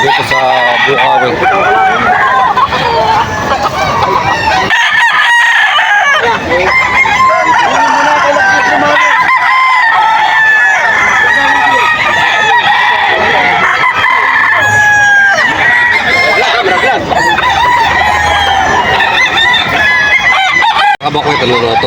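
Roosters crow loudly and repeatedly over a constant din of clucking chickens at a busy chicken market in Bocaue, Bulacan, with people talking faintly in the background throughout.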